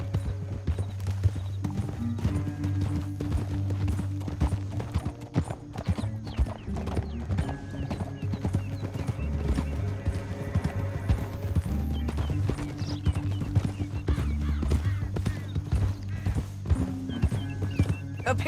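Horse hooves clip-clopping in the Red Dead Redemption 2 video game, a steady, close rhythmic trot with occasional whinnies and soft tack noise over a low ambient bed, continuing for the full stretch.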